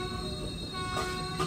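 A passenger express train between Chennai and Jaipur halts suddenly near Chandrapur station, its rumble and squealing wheels heard from inside the carriage with a faint horn, continuous and moderately loud.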